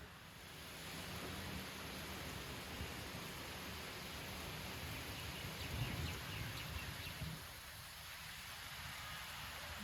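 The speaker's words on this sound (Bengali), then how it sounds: "বৃষ্টি নামছে সব অন্ধকার হয়ে গেছে" Rain pouring down in Barishal as the sky turns dark, a soft, even wash of falling water heard from some distance, continuous and fairly quiet with no talking.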